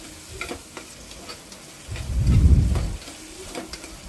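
Tomatoes hit a hot pan for Chettinad chicken biryani and fry with a loud sizzle that swells in the middle of the clip, around light clinks and stirring, with no voices.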